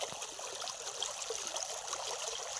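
Irrigation water rushing along a field channel on a Punjabi farm, a steady close gurgling flow with light splashes throughout and no talk over it.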